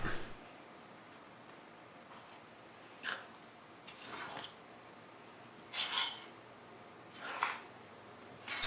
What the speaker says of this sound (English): Keep scraping underneath and folding it over the top is the method I use.